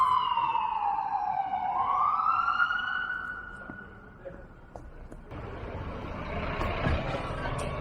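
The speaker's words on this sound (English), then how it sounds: "there was a second unit inbound under lights and siren" A wailing siren sweeps up and down loudly, then fades and gives way to rumbling traffic and engine noise.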